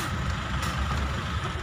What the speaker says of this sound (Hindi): जाम में फंस चुके हैं हम